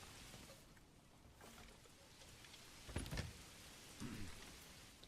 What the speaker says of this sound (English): It just rains a lot over in this part of the world